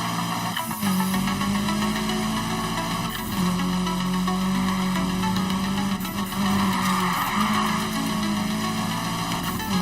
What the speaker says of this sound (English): it's really hard to drift in this car